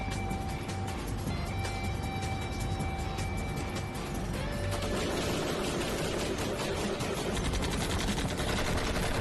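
Gunfire in a dubbed TV drama, rapid bursts of automatic shots crackling continuously over a dense noisy action soundtrack, growing denser and louder in the second half.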